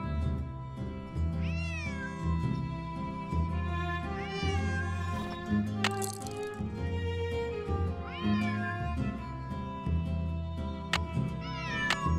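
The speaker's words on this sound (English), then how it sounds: "Otherwise, he'll just keep meowing." In the Nancy Drew game Secret of the Old Clock, a cat meows repeatedly in rising, whiny calls over a soft background music bed, several distinct meows spread across the stretch.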